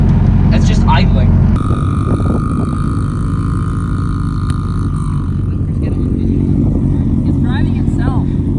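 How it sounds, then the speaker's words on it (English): A Smart car's engine idles steadily while stuck on ice, a close, continuous low drone that holds through the whole stretch, with voices talking over it. "That's just idling."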